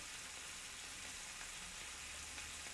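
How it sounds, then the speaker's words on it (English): Garlic sautés in a pan for Irish stew, a faint, steady frying hiss that holds evenly throughout with no distinct stirring or voices. "we're going to add in garlic, and we're going to saute it for 30 seconds until fragrant"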